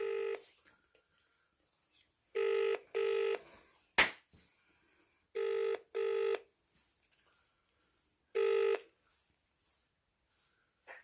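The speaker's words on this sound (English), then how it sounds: "Is your phone ringing?" A telephone rings in short repeated electronic bursts, paired tones separated by pauses, with a sharp click midway through.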